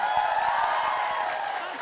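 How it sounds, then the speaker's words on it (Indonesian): A comedy show audience produces a brief, steady wash of applause and crowd noise, thick and even throughout, with voices mixed into it. "Berikan tepuk tangan untuk Bang Mali."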